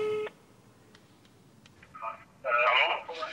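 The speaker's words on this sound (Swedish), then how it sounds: "Jag ringer Jamal för att höra hur det går med jobbsökandet." A telephone is dialed for a call: a short burst of keypad tones opens, then quiet, then repeated loud ringback or line tones near the end, with no talk over them.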